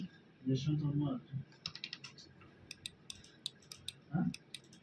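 Keys clicking on a computer keyboard, a sparse run of sharp taps and a few quick bursts, with someone speaking briefly before and near the end.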